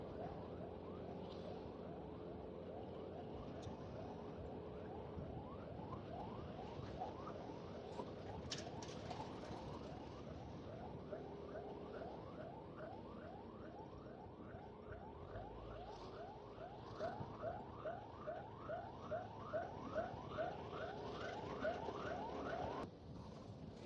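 An ambulance siren on a road near limestone quarries heading toward Cimahi wails in rising, repeating sweeps. It runs steady for many seconds at moderate distance amid traffic rumble and grows slightly louder toward the end.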